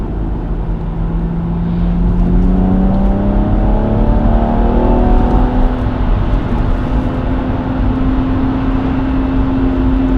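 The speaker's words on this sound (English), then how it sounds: "have a look once this car's gone past" A car engine drones loudly and steadily, its pitch sliding upward as it approaches and passes close by, with continuous road rumble.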